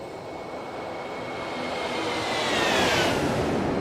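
Simulated jet engines of an Airbus A330-300 in X-Plane 12 roar in a steady, rising wash during a flyby after takeoff, growing louder toward the end with a faint high whine.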